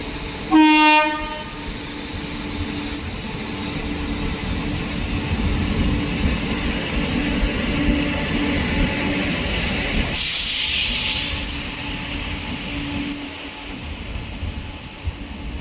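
The Kannur–Yesvantpur Express, hauled by a WAP7 electric locomotive from the Royapuram shed, pulls into platform 2 at Kannur station. A short horn blast is followed by a steady rolling rumble and a brief loud hiss of air.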